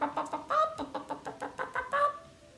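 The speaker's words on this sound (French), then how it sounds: "Bonjour la poule, qu'est-ce que tu manges?" A hen clucks in a quick run of about a dozen short, close, evenly spaced notes, a few of them stretched into longer calls, before the sound trails off into quiet.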